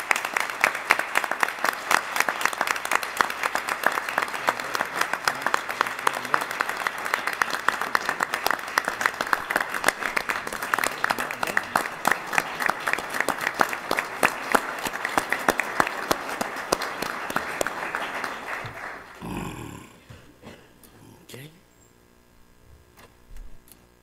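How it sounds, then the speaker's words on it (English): A crowd at a Board of Education meeting gives a sustained round of clapping for FFA students on state-winning livestock and horse evaluation teams. The dense applause lasts nearly twenty seconds, then quickly thins into a few scattered claps and quiet room noise. "Let's give them a round of applause,"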